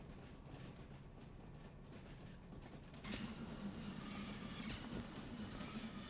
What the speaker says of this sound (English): Man, this is a long train.